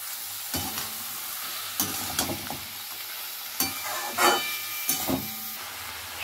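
Soaked chickpeas fry in a pan with a steady loud sizzle, while a utensil stirs them in several scraping strokes at irregular intervals, close up, with no talking.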